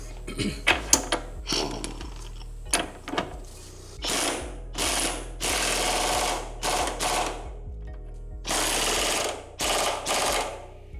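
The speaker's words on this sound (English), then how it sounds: "All right, and we'll throw the impact on it. And these are a 27 millimeter." Impact wrench driving 27 mm bolts on a VW Bug transmission mount during an Autostick-to-manual swap, sounding in several loud rattling bursts of one to two seconds, separated by short gaps and clicks, close up with no talking.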